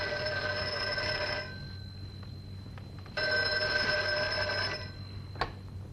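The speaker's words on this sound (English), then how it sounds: "Answer the phone." A telephone rings in two electronic bursts indoors, each about a second and a half long, separated by a short pause, moderately loud with nobody speaking.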